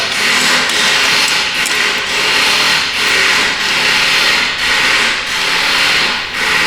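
A steady, loud mechanical grinding with regular pulsing surges about once a second, like a power tool working a stubborn bolt loose.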